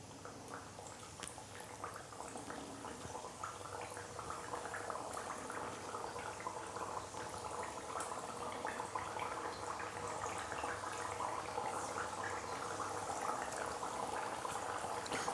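Biscuits sizzle and bubble in hot oil in a kadhai, a steady, dense crackling fry that holds throughout, close and fairly loud with no talking.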